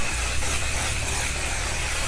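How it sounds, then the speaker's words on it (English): A One Size Until Dawn mattifying waterproof setting spray mists steadily in one continuous close hiss with no pause and no talking. "set my face with the One Size Until Dawn Mattifying Waterproof Setting Spray"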